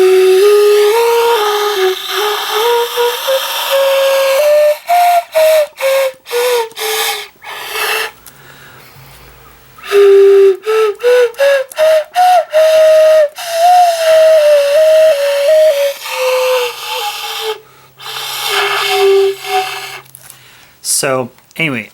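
Homemade flute fashioned from a cardboard cereal box, played as a breathy whistling melody of short stepped notes in phrases with brief pauses, close and fairly loud, with faint airy hiss between phrases.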